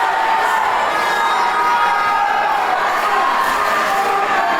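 A boxing crowd cheers and roars loudly and steadily at a bout in Wales, a dense wall of shouting voices throughout.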